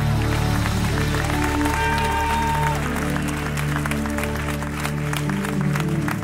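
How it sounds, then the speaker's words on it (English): A church congregation claps to the Lord during a prophetic worship service, a dense, steady wash of many hands over sustained music and a held tone, loud and continuous throughout. "Clap your hands to the Lord Jesus"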